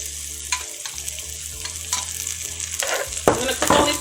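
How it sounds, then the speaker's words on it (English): Mushrooms with small pieces of garlic sizzle in a pan over lowered heat, a steady broadband frying hiss broken by a few louder stirring scrapes and crackles toward the end, close up with no talking. "I'm gonna cook all these mushrooms"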